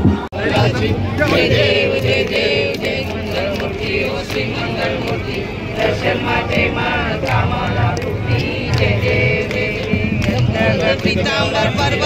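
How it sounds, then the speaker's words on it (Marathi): Dense festival crowd at the Narali Purnima celebration in Versova Koliwada, a loud continuous hubbub of many voices with music and bustle throughout, no single speaker standing out. "सो पूर्ण वर्सोवा जमाव झालेला आहे पाहू शकता आणि जल्लोष पाहू शकता तुम्ही"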